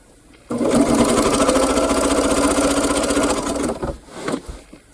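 A sewing machine fitted with a walking foot stitches binding onto a quilt top in one steady, loud run of rapid mechanical whirring, starting abruptly after a brief quiet and slowing toward the end with a few uneven bursts.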